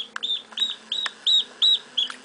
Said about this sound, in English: These ducks are just visiting, and they're heading out to a farm